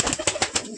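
Pet pigeons cooing near a loft in the morning, a few short close coos in quick succession, briefly.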